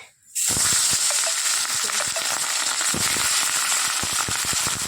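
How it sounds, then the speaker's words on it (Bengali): Prawns dropped into hot oil in a wok set off a loud, continuous sizzle with crackling pops, starting abruptly after a short quiet moment. "চলো চিংড়ি মাছটা বসিয়ে দিই তেল গরম হয়ে গেছে কড়াইতে"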